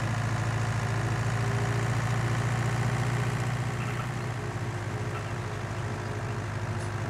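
A tractor engine idles steadily in Farming Simulator 19, a low continuous rumble with a constant drone, fairly loud and alone for the whole stretch.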